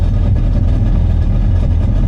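The supercharged engine of a Yamaha FX SHO WaveRunner with a Haltech setup runs close by, a loud, steady low rumble with no pauses or talk.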